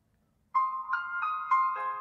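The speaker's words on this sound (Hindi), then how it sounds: "काफ़ी खूबसूरत नोटिफिकेशन टोन यहाँ पर आपको सुनने के लिए मिल जाती है" A bright electronic phone notification tone from a ringtone app plays alone after a moment of silence, a clean melodic sequence of four or five quick chiming notes ending on a lower tone.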